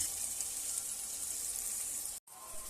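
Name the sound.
onions frying in a pan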